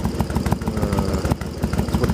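A Yamaha Virago XV1100 motorcycle idles close by, a loud, uneven, lumpy pulsing engine beat with a misfiring, coughing character running throughout.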